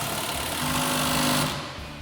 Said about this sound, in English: we'll go ahead and tighten those down using our 18mm socket on our impact and our 19mm wrench